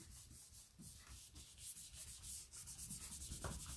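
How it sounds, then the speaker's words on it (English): Card rubbed over a gel printing plate gives a faint, close, continuous scraping, rasping in repeated strokes with no talk. "Grab some card and give it a good rub"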